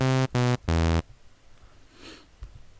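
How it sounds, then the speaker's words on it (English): A bright buzzy Serum wavetable synth lead set to a triangle-saw shape plays three short notes, the last held slightly longer, followed by near silence. "Scroll through the wavetable position till you get to this kind of triangle saw"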